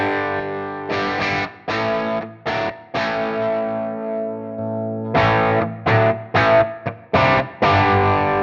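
Distorted electric guitar through a Line 6 Helix German Xtra Blue amp model plays chunky chords and bursts of strumming with pauses between phrases, loud and saturated with a thick amp tone.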